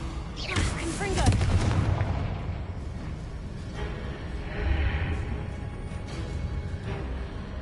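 Confringo fire spell blasts in Hogwarts Legacy, a couple of booming, crackling bursts that swell and fade, the first strongest early on and a second softer one midway, with the player's voice heard around them.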